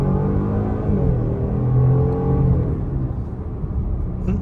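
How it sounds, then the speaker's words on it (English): A 2025 Jaguar F-Pace SUV accelerating, a steady, moderately loud engine rumble rising gently in pitch for a few seconds, heard from inside the cabin. "Okay, let's do a little acceleration."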